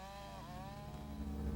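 Chainsaws cut swaths through thick trees for pulp in a lush Alaska forest, giving a steady, fairly faint buzzing engine drone that holds throughout and swells slightly toward the end.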